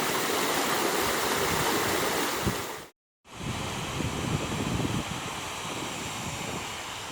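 Close, steady rush of water from the top of a waterfall under a red gum tree in Australia, loud and continuous with wind noise, cut by a brief total silence partway through.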